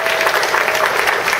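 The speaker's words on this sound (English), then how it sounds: "how about a nice round of applause for Mike Whitney?" Brief, dense applause from a live audience, loud and continuous across the short stretch, with a faint voice briefly audible underneath.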